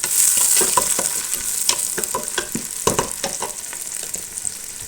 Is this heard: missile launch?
no